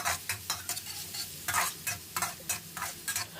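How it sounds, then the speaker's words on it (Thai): Chopped garlic fries in hot oil in a pan with a soft sizzle, punctuated by rhythmic scraping strokes of stirring, close and steady. "เราก็มาตั้งกระทะใส่น้ำมันลงไปน้ำมันเริ่มร้ อนแล้วเราก็จะใส่กระเทียมสับลงไปครับ"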